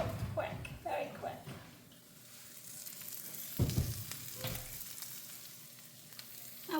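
Roasted Brussels sprouts sizzle and crackle steadily as the pan comes out of the oven, a soft continuous frying hiss with a few louder clatters, while a person talks nearby.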